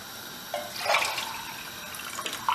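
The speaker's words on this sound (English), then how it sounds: "that's a pint of water gone in there" Water poured into a pot of curry on the stove, a steady close splashing stream that runs the whole time with no talk.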